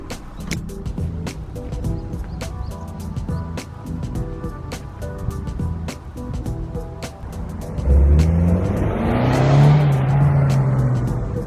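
A Kia Sportage gasoline SUV engine hums steadily and quietly while driving, then swells louder as the vehicle accelerates near the end.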